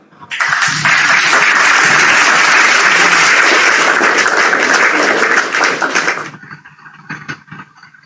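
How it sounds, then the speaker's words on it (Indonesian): Loud, dense audience applause at a religious debate or sermon gathering fills the hall for about six seconds, then cuts off sharply, leaving a few scattered claps and murmurs. "Tepuk tangan yang di bawah"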